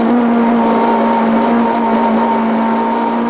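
A Fiat Punto rally car engine on a rally stage holds a steady, loud high-revving drone, close by and continuous, with no talking.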